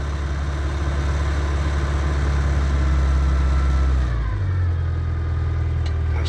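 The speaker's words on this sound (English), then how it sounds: "Cold start, Morris Minor, 1960." A 1960 Morris Minor engine idles after a cold start, a steady low rumble close by that shifts to a slightly lower, smoother tick-over near the end, with no talking.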